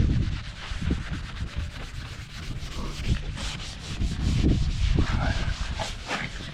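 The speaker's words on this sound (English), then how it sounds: "Give it a good rub into this paint." Scouring pad scrubbing Jif cleaner into the paint of a classic Pontiac, a steady rasping rub in repeated back-and-forth strokes, close and fairly loud.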